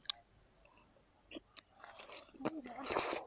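Close, soft crunching and wet chewing of sweet fruit picked in a roadside orchard, with brief bites and quiet murmured voices nearby.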